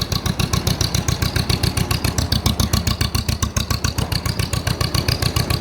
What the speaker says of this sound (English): The muffler on this tractor is a accurate reproduction of what it would have sounded like when it was new.